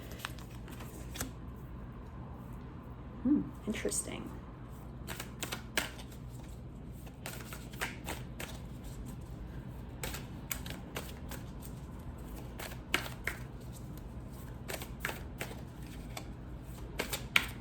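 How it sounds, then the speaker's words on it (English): Soft, repeated riffling and tapping of tarot cards being shuffled close by, with scattered sharp clicks; a voice briefly speaks once. "please don't judge my shuffling."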